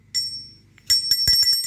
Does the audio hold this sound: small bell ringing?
yes